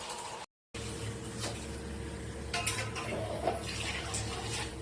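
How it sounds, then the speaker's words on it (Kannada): Water being poured into a pot of sprouted-gram sambar, a close, continuous splashing pour that runs steadily after a brief cut at the start. "ಇವಾಗ ಇದಕ್ಕೊಂದು ಸ್ವಲ್ಪ ನೀರು ಹಾಕೋಣ."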